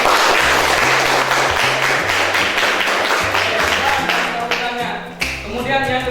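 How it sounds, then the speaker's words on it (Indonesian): Students in a classroom clapping together in a brief burst of applause, fairly close and loud, with rhythmic clapping that thins out near the end amid some room noise. "tepuk tangan Pak Iqbal"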